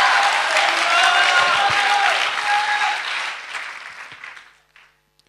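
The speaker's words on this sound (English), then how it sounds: "Clap your hands again and shout the accolades to him." Church congregation clapping and shouting praise during a sermon, a loud dense wall of applause with voices mixed in, sustained for several seconds before fading away to near silence.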